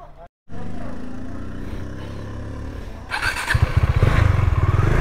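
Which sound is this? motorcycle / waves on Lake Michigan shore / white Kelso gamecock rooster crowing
motorcycle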